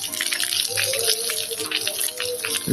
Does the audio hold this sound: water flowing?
yes